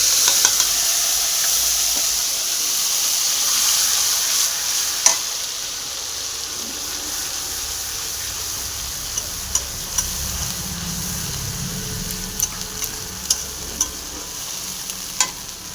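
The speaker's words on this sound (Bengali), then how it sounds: "বেটে রাখা মশলাটাকে, যে তেলটা গরম হয়ে গেছে, তেলের ওপর দিয়ে আমি দিয়ে দিয়েছি সাদা জিরে ফোড়ন।" Ground spice paste and white cumin tempering sizzling in hot oil for a pomfret jhal, a loud, continuous hiss with scattered light clicks from a utensil and no speech.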